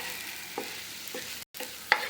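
Chicken sausage lightly sautéed in a pan makes a faint, steady sizzle broken by a couple of soft stirring scrapes, a momentary cut-out, then a brighter utensil clink at the end; no voices.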